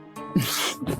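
A single sharp sneeze bursts out close and loud, with a short intake before it and a quick tail after, alone with no talk.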